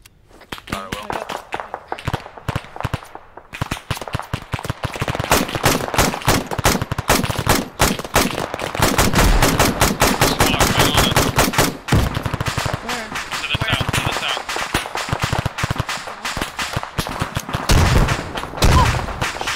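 Intense gunfire in an ArmA 3 military simulation ambush on a Humvee on flat ground: dense rapid bursts of automatic fire and single shots, loud and near, continuing almost without a break.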